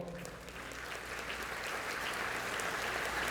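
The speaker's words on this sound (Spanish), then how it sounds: "Palmas para ellos, por favor." An audience claps steadily at a nanotechnology lecture, a dense continuous applause that swells slightly and keeps going without letting up.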